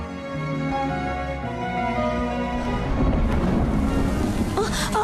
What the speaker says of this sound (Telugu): లేట్ నైట్ అయింది, వర్షం ఒకటి పడుతుంది